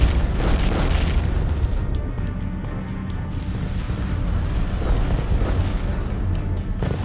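Continuous heavy battle booms from explosions under fire in the Ground Control 2 strategy game, loud and dense rumbling with repeated blasts layered over one another, no speech.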